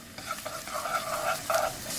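Minced lemongrass stir-fried in liquid fat in a pot: a continuous close sizzle with rhythmic scraping strokes of stirring layered on top, steady and fairly loud, no voices.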